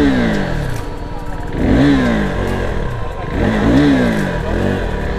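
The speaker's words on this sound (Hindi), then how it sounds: "थ्रोटल से काम चला रहा हूँ मैं पर थ्रोटल भी काम नहीं कर रहा बाइक का।" Motorcycle with a sluggish, overheated throttle revving twice, the engine note rising and falling in two loud swells over a steady running idle, close up with no talk.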